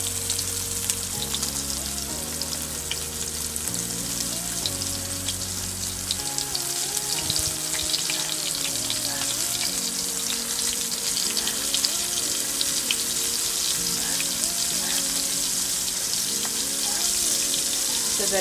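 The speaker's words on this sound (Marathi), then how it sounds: "हे कोट करून आता फ्राय कर." Coated Bombay duck fish frying in hot oil over low heat, a dense, steady sizzle close by lasting the whole span, with faint kitchen sounds and background music beneath it.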